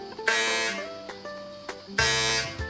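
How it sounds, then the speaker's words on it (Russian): A LEGO Education programmable robot sounds an electronic signal: two bright sustained buzzy beeps about two seconds apart, loud and close, with no talk. "Звуковой сигнал."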